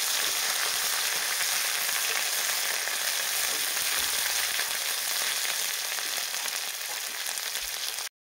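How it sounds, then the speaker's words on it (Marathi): Masala soybean sautéing in hot oil, a steady loud sizzle and crackle that runs without pause before cutting off abruptly, no voices. "आणि हा छान तेलामध्ये परतून घेऊया."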